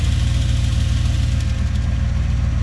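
The engine of a 1977 Dodge Power Wagon W150 pickup, revived after sitting parked for 20 years, runs rough with a loud, uneven low rumble and a knocking pulse. It sounds close up, with no speech over it.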